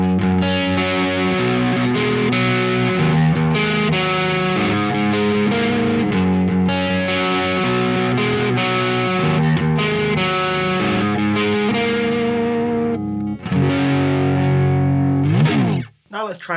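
Electric guitar with its neck pickup split, played through heavy distortion: sustained, buzzing chords change steadily in a loud run of strummed and held notes, ending with a brief sliding flourish.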